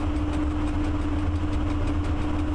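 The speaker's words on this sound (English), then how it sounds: "Even though it's only a freight train." A freight train engine in Train Driver 2 rumbles with a steady low drone and a sustained tonal hum, continuous and loud up close, without pauses or voices.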